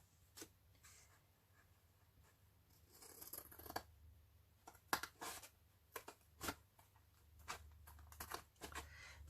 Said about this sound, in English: I have to cut this with the scissors now.